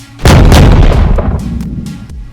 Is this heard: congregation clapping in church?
no